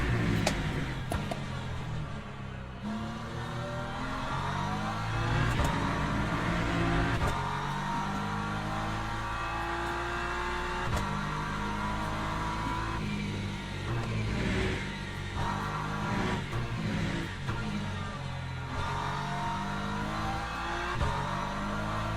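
LMP2 prototype race cars thunder past in the Le Mans Ultimate racing game, a loud, continuous engine roar with rising and falling revs and shifting pitches as several cars sweep by one after another.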